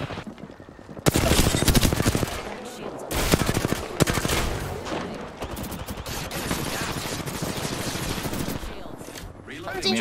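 Rapid automatic gunfire in a video game rattles in long, dense bursts with a few short pauses, loud and close throughout, while players talk over it.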